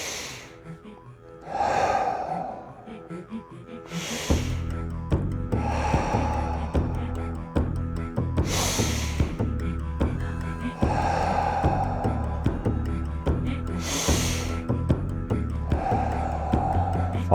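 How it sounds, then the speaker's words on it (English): Deliberate breathing exercise: a person takes sharp inhales through the nose and slow, audible exhales through the mouth, repeated in a steady cycle close to the listener, with background music underneath. "So in through the nose, out through the mouth."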